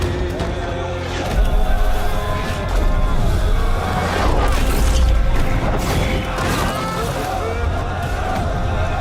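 Cannon fire and battle din from a Napoleon movie battle scene, loud deep booms and crashes rolling through a dense wall of noise, with shouting voices mixed in.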